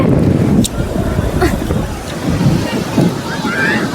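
At Kanaparthi beach, wind buffets the microphone and waves wash in a broad, steady roar.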